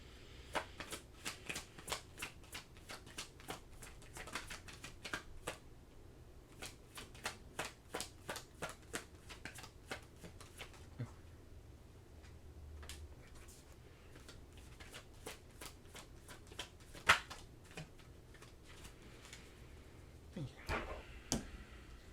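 Tarot cards shuffled by hand in a long run of quick riffling bursts, crisp papery flutters that stop and restart, close and fairly quiet, with a louder snap near the end.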